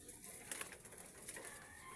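Soft pigeon cooing, low and murmuring, against a faint hiss of outdoor background noise.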